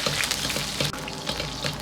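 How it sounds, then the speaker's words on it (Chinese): Ginger and scallion sizzling as they stir-fry in hot rapeseed oil and lard in a wok, a steady dense hiss with a few clatters from the stirring, close and fairly loud. "油热后下入姜葱，先煸炒出香味。"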